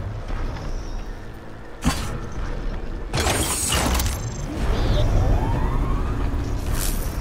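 In Horizon Forbidden West, a power cell brings a machine generator back to life. Clanks and a sharp metallic jolt come first, then a rising electronic whine and a steady mechanical hum as the power returns.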